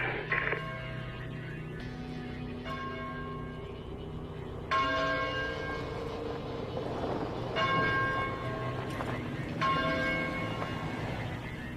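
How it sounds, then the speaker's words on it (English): A church bell rings out in several resonant strikes spaced a couple of seconds apart, each ringing on and decaying, over a low steady hum. "Is that a church bell?"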